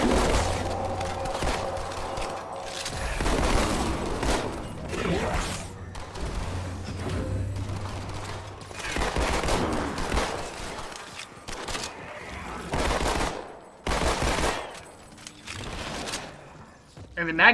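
Magnum pistol fire in the Halo 2 campaign: sharp gunshots come in irregular bursts amid other combat noise, and a voice talks underneath much of the fighting.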